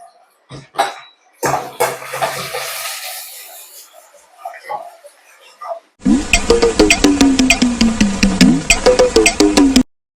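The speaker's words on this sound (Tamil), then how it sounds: "வெங்காயம் கூட 2 கொட்டை கருவேப்பிலை இது சேர்த்து நம்ம நல்லா வதக்கிக்கலாம்" Sliced onions with curry leaves hit hot oil in a pan, starting with clattering and scraping, then a loud steady sizzle with rapid crackling, close up, while a person talks in the background.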